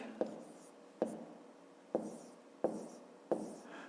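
Numbers written by hand in a math exercise, five distinct pen or chalk strokes at a steady pace, each a short scratchy tap with light rustle between, close and quiet.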